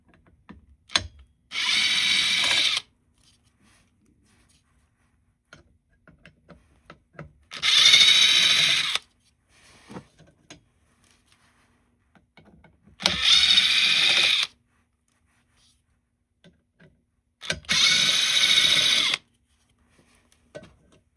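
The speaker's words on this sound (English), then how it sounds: "Using T25 Torx bit, unscrew 4 bolts holding this plastic cover." A power drill fitted with a T25 Torx bit unscrews four bolts from a plastic cover on a Porsche Macan, running in four separate loud whirring bursts of one to two seconds each, with small clicks between them.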